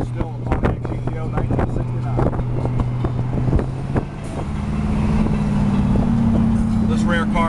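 A 1969 Pontiac GTO convertible drives along with a steady low engine drone and wind buffeting the open cabin, the engine note rising and holding louder in the second half, with scattered knocks and bumps along the way.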